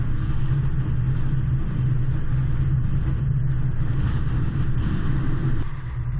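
A 2020 Nissan weaving through a slalom on a test course gives a loud, steady low engine rumble and road noise from inside the car, with slight swells as it turns.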